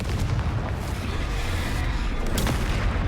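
The Confringo fire spell explodes in the video game Hogwarts Legacy, a loud, dense rumbling blast that stays sustained and booming throughout with sharper cracks near the end, no speech.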